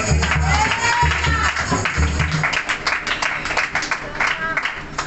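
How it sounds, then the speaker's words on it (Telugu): A church congregation at a Telugu Bible sermon claps in praise of God; scattered applause rises under a speaking voice. "చప్పట్లు కొట్టి దేవుడికి స్తోత్రం"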